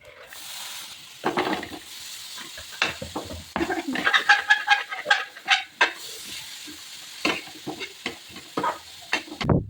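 Onion for paneer bhurji hits hot oil and fries, with a hiss and a burst of crackling spatter building, then irregular pops and stirring scrapes close by.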